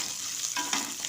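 Chopped green chillies added to a hot oil tempering with garlic-ginger paste for a dill leaf bhaji, giving a short, bright sizzle and crackle with a few sharper pops, fairly close and with no talk.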